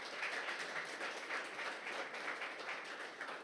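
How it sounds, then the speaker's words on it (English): A steady round of audience applause fills a launch event for the 2019 International Champions Cup, dense and continuous, heard at moderate distance without any talking over it. "Give him a round of applause, huh?"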